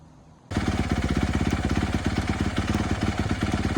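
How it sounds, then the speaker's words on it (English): A Honda CRF450R dirt bike set up as a street-legal supermoto fires up after a short quiet moment, then settles into a loud, close, steady engine run with a rapid, even pulsing beat. "So I'm just gonna fire up the bike and see if it runs."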